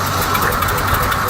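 An old Ford F-600 truck engine turns over and runs roughly during a cold start at -22°F, a loud, close, continuous low rumble with faint rhythmic pulsing and no talk.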